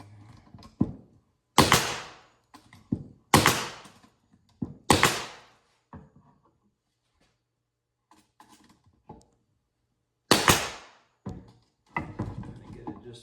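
A nail gun drives nails into the top and sides of a wooden beekeeping honey super, several sharp, loud bangs in irregular bursts separated by quiet pauses and handling clatter.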